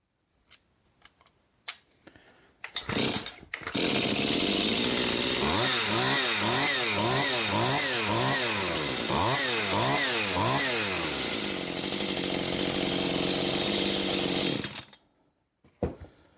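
A Stihl chainsaw engine fired up after its air cleaner was refitted, running loud and steady for about twelve seconds with repeated revving surges, alone without talk, then cutting off.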